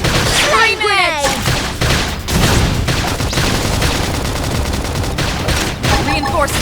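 Heavy gunfire in Xenoblade Chronicles X, dense rapid shots and blasts packed close together, loud and near, with game voices calling out amid the barrage.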